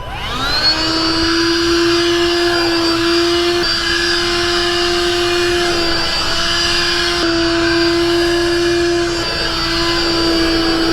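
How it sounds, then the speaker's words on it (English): A Bissell Pet Stain Eraser vacuums up cleaning solution with a loud, steady motor whine that holds a constant pitch, with slight shifts in tone as it is moved across the stain. "Now I'm going to go with the pet stain eraser, sorry, and I'm going to start sucking up the solution."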